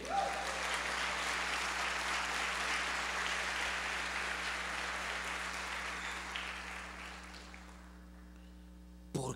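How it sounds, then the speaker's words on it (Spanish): Congregation at a Spanish-language church service giving applause to the Lord, a steady, dense crowd clapping that holds for several seconds with a low hum beneath, then fades out near the end. "Dele un aplauso al Señor"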